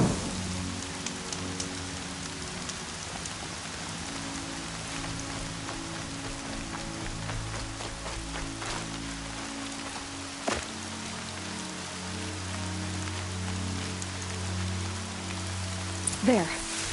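Steady rain falls in a video game world, a dense even patter with low droning tones beneath and a couple of brief sharper knocks near the end.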